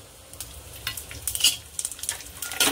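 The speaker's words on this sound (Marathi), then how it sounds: "1 चमचा छोटा मी जिरे टाकले। ते मिरची आणि हे छान असं भाजून घ्यायचं सोबतच।" Cumin seeds and green chillies roast in a little oil in a pan, giving a soft sizzle broken by intermittent stirring scrapes and crackles, close and quiet, with no talking.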